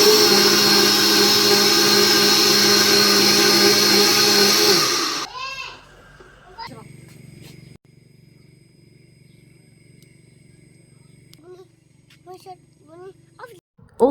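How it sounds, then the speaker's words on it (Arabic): A blender mixing banana juice whirs loudly and steadily for about five seconds before shutting off, followed by quieter clinks, rustling and faint background sounds. "وهنا نخليه على الخلاط ونبلش نخلط بيه كلش زين."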